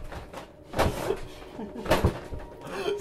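A door closing in the Five Nights at Freddy's 4 video game, heard as two short, solid knocking thuds about a second apart with a soft breathy background.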